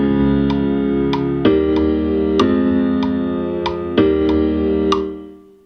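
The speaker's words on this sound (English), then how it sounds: "And some bass notes." Synthesized bass notes in GarageBand played in a steady sequence, each with a bright attack and sustained tone, alongside repeated higher plucked notes, loud and clean.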